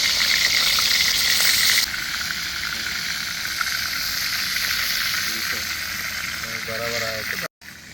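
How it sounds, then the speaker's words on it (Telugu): Fish pieces frying in oil in a clay pot, a loud continuous hiss and sizzle that softens slightly after two seconds, with a faint voice briefly audible near the end. "మనం మేనేజ్ చేసుకున్న ఫిష్ ముక్కలన్నీ ఒక ఐదారు నిమిషాలు ఫ్రై చేసుకోవాలి"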